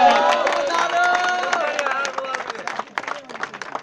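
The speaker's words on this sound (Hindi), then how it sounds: "यहाँ पर तालियां थोड़ी यार कंजूस हो गए हो" A crowd at a tournament prize presentation applauds, starting with dense clapping and cheering that gradually thins out into scattered claps as a voice talks over it.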